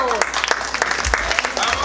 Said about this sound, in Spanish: Esos aplausos para los hoy esposados Fidel y Febronia de esta noche.